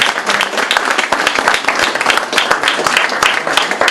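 Audience applause at a mayor's evening event on commercial development in Plessisville, honouring Denis Baudouin, with brisk dense clapping from many hands held steady and fairly close throughout.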